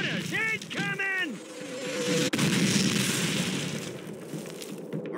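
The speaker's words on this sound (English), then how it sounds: "Mortars incoming!" Incoming mortar fire in Call of Duty: a shouted voice at the start, then a sharp impact followed by a rumbling, noisy wash of distant blasts and battle din.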